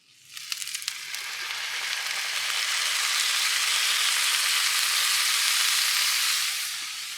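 Salted steak frying in a pan on a stovetop, a loud, steady sizzle that swells in the first seconds and holds close and continuous, with a few crackles at the start and no talking.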